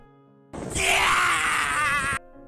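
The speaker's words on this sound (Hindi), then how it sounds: "प्रीडेटर फिर गुस्से से चिल्लाता है।" A loud, harsh scream from the Predator creature in the film Prey (2022) erupts and holds for nearly two seconds before cutting off abruptly, over faint background music.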